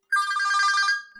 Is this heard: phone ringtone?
yes